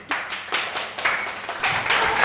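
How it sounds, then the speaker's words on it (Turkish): A class of third-grade children claps close by. The loud, uneven hand claps come in bursts over a couple of seconds. "Bravo alkışlayalım."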